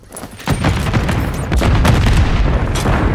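A grenade explodes in a Call of Duty Search and Destroy match, a loud booming blast at about half a second followed by sustained rumbling low-end noise and debris through the rest.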